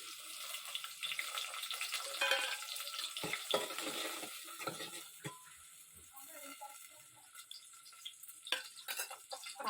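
Chopped onion tossed into hot tempering oil for a village-style chicken curry cooked over a wood-fired chulha, giving a close, crackling sizzle with intermittent stirring clatter and watery hiss.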